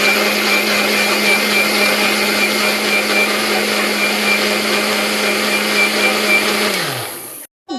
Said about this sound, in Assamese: বিট গাজৰ এনেকৈ মিক্সিতে দিব ল'লোঁ।